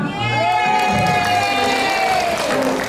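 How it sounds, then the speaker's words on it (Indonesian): Audience applause and cheering at an anniversary gathering of a Jakarta church council, a dense burst of clapping with whoops and raised voices, loud and continuous throughout. "Wah, tepuk tangan buat Jakarta Utara."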